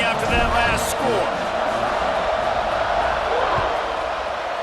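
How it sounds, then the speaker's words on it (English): Stadium crowd buzzing at a college football game in EA Sports College Football 26, a steady, dense roar of massed voices with some cheering that holds loud throughout. "this crowd is buzzing after that last score"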